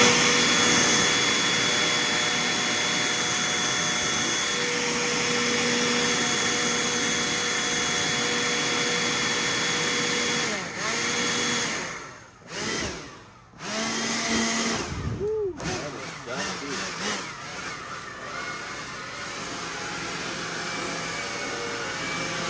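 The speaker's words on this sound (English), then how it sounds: "I need to vacuum that stuff up." Steady loud vacuum cleaner whine sucking loose debris out of a Rinnai RL75 water heater with a dirty fan, holding a constant roar that dips and surges briefly midway as the nozzle catches clumps.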